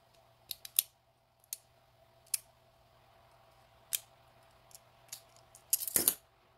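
Scissors snip support material off a 3D-printed part: a series of short, sharp clicks spaced irregularly through a quiet room, ending in a brief cluster of louder snips.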